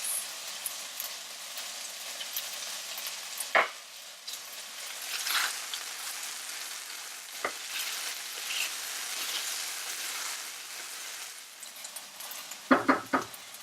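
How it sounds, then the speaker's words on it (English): Sticky rice jambalaya with gingko kernels, sugar and soy sauce frying and being stirred in a pan, a steady soft sizzle with occasional sharp scrapes and clinks of the utensil against the pan. "and just stir up. Then add in the sugar and 1 tablespoon of soy sauce"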